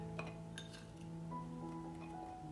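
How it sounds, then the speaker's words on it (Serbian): Glass jar clinks a few times as chopped onion and carrot rounds are spooned in, crisp taps close by over a steady low hum in a quiet kitchen. "Sada ću napuniti drugu teglu."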